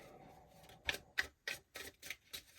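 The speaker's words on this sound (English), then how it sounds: "We'll do 3 more shuffles here." Tarot cards are shuffled in quick, crisp riffles, six or seven sharp papery snaps at a steady rhythm, close and fairly quiet with no talking over them.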